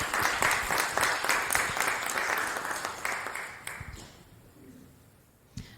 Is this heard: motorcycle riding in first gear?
no